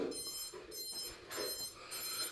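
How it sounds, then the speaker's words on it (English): An alarm beeps inside a vacation home being cleaned, repeating in steady high-pitched bursts about every 0.6 seconds with brief gaps, moderately loud against quiet room noise. "There's an alarm."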